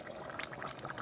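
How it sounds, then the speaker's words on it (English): Water pours into a cooking pot of Cajun red beans, rice and sausage, a faint, short splashing trickle with no talk over it. "I'm going to add 2 more cups of water to it."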